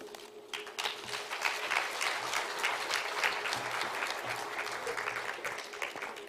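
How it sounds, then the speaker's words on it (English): A large audience at a South African government department event for women, youth and persons with disabilities breaks into sustained, even applause lasting several seconds, fairly distant and uniform. "A massive round of applause again."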